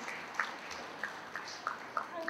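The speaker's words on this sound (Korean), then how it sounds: "다시 한번 박수 보내주시기 바랍니다" A modest audience at a Buddhist monk's talk claps faintly and scattered, with a few distinct claps standing out from a quiet, diffuse background.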